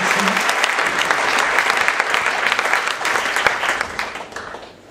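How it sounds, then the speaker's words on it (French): Audience applause for volunteers at a live presentation, a thick patter of many clapping hands that holds steady for several seconds, thins into a few scattered claps and then fades away. "Vous pouvez les applaudir, ils ont été patients."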